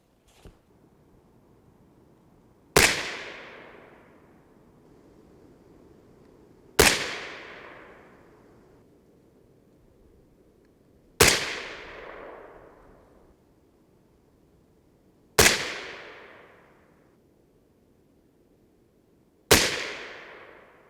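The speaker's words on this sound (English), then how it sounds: "Five more shots to go." A 6.5 Grendel rifle fires five evenly spaced shots outdoors, each a sharp loud crack followed by a rolling echo that decays before the next, with no talking.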